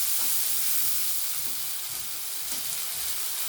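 Ginger paste frying in a pan, a dense, continuous sizzle and hiss at a steady level, close and unbroken, with no voices.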